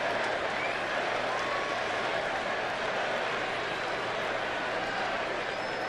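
A large baseball stadium crowd at an Atlanta game roars and cheers in a dense, constant wash of noise that holds at one level throughout.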